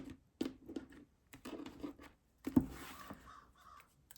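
A crow caws in a series of short, harsh calls spaced irregularly, fairly quiet and somewhat distant, with a louder, longer caw near the end.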